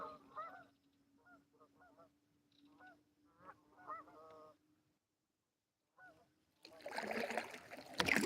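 Geese honk in a series of short, faint calls from a flock out on the water at sunset, heard from a kayak, followed by a burst of water splashing at the end.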